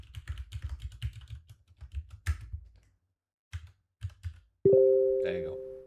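Quick bursts of typing on a computer keyboard with soft clustered key clicks, brief pauses between runs, then a sustained electronic chime tone at the end.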